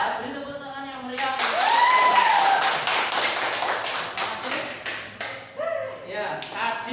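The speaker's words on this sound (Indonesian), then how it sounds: "Beri tepuk tangan yang meriah." Classroom applause during a teaching practice lesson, scattered tapping claps mixed with voices and a brief tonal squeal, fairly busy throughout, with talk running over the patter.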